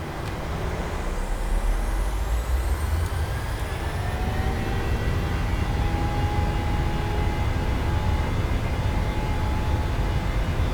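Simulated Boeing 737-800 engines spooling up for a takeoff roll on departure from Hachijojima, a loud, steady jet roar with rising whine tones and rumbling runway noise throughout.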